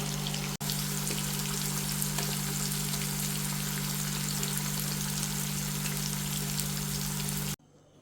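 Marinated chicken pieces fry in hot oil for a crunchy, juicy fry, giving a loud, steady crackling sizzle over a low hum that cuts off abruptly near the end; no one talks.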